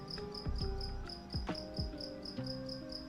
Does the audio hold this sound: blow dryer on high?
no